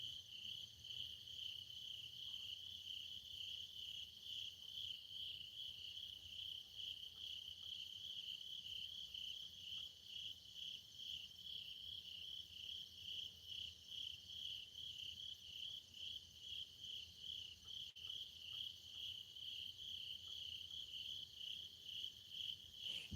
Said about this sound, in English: Yes, crickets. A lot of crickets, Frenchie.